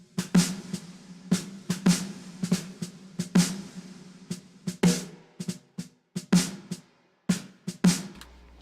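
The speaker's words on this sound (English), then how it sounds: "It's the reverb on snare." Snare drum hits drenched in reverb, a string of sharp cracks at an uneven pace, each trailing off into a lingering wash, loud and alone with no talking.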